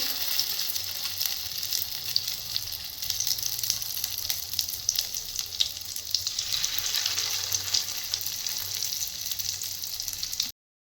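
Chicken pakoras deep-frying in oil for chilli chicken, a continuous bright sizzle and crackle at moderate level, steady throughout before abruptly cutting off.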